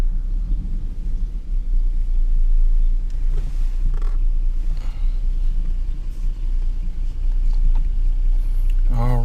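A car backs up into a garage, its engine a low, steady rumble close by that holds throughout, with faint clatter above it.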